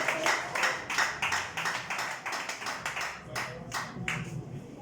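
A church congregation claps for Jesus in a lively, rhythmic stretch of steady hand claps that stays fairly close and continuous throughout.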